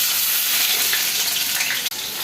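Chopped onion dropped into hot oil in a home kitchen pan while making pasta, giving a loud, steady hiss of sizzling throughout, with a brief sharp knock near the end.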